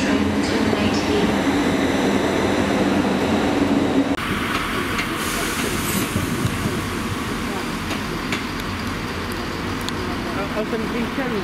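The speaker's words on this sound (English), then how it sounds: "Train now approaching platform 3." A train hauled by locomotives 37521 and 37409 rumbles and hisses into Cardiff Central station, steady rolling noise with faint clicks and squeals, loud and close, no voices.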